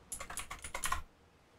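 Quick run of keystrokes on a computer keyboard while building a transport network in a city-building game, close and fairly quiet, about a second of tapping followed by silence.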